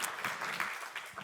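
A convention audience applauds, with lively, uneven clapping that spreads through the hall and carries faint voices beneath it.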